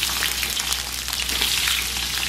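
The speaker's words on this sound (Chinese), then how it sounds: "咱们在锅里边稍微给它来点油，油温5成热啊，咱们先把姜片给它下里边" Ginger slices sizzle in moderately hot oil in a wok, a steady close crackling fry that runs without pause and with no talking.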